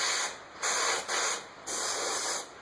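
Airbrush spraying paint in short hissing bursts over a bluegill skin mount in a taxidermy shop, several spray passes with brief pauses between them, close and steady.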